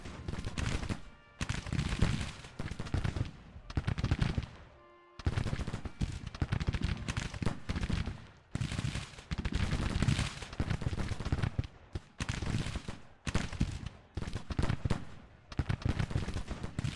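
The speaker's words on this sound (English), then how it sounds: "Start firing, damn it." Volleys of Civil War musket and cannon fire in the Grand Tactician strategy game, loud, dense bursts of crackling gunfire repeating in waves with brief lulls between them, no talking.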